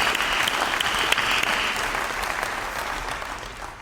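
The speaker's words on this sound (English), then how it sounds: "let's everybody give everybody in the audience a great big round of applause" An audience at a battery plant jobs announcement event breaks into a full round of applause, dense clapping that holds strong and then slowly tapers off.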